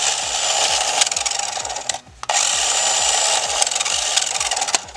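An NKOK Tails RC vehicle is held while its wheels spin, producing a close, rough grinding whir with repeating rising motor sweeps and scraping clicks. It cuts out briefly near the middle, then resumes just as harshly.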